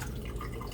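Water swirled and rinsed in a pancake pan, heard as a short close burst of sloshing and dripping liquid, fairly quiet and with no one talking.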